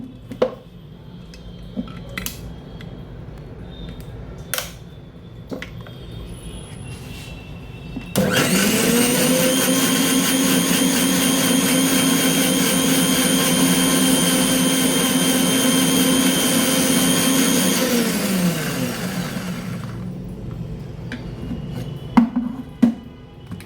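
A kitchen mixer grinds tomato pieces with masala and a little water into paste for Maharashtrian egg curry. It starts abruptly into a loud, steady whirring roar for about ten seconds, then winds down, with faint clinks before and after.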